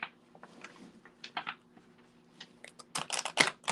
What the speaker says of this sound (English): These cards are not shuffling right today.